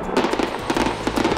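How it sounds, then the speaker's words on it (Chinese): Fireworks at Tivoli Gardens in Copenhagen during a national celebration, a rapid series of loud crackling bursts and pops close together over a dense rumbling background. "晚间，哥本哈根蒂沃利花园烟火绽放"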